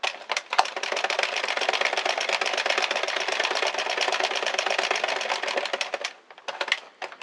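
A hand-cranked circular knitting machine working yarn gives about six seconds of fast, even mechanical clattering and ticking close by, then trails off into a few scattered clicks.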